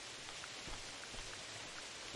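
Steady rain falls in theHunter Classic hunting game, a soft even hiss of drops with no pauses, faint and continuous with no voices over it.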